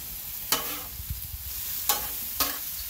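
Seafood sizzles in oil on a 22-inch Blackstone griddle, a soft continuous hiss punctuated by a few sharp scraping stirs of a spatula, with no talking.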